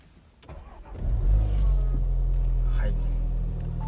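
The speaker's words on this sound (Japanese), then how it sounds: "それではですね、ちょっとエンジンかけていきます。" An Audi TT Coupé 2.0 TFSI quattro starts nearby: a short crank, then the engine catches with a brief rev and settles into a deep, steady idle.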